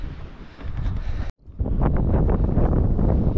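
Loud, blustery stormy wind buffets the microphone on a hill on Kangaroo Island, with low rumbling gusts, dropping out for a brief instant before roaring back even stronger.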